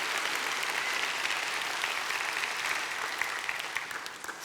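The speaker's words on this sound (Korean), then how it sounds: "박수 하나님께 영광을 돌려야 됩니다." A church congregation claps during a Sunday worship service, broad sustained applause from many people that holds steady and then begins to taper off near the end, with no speech on top.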